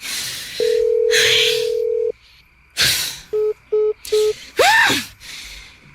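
Mobile phone call left unanswered: a steady ringback tone followed by a burst of short repeating beeps, with breathy noises and rustling between them.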